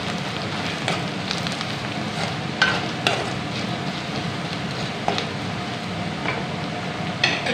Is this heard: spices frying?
yes